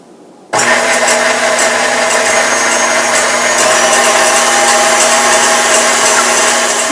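An electric mixer whirs into action, beating strawberry macaron batter toward soft peaks, starting abruptly and holding a loud, steady motor whine close by, with no talking.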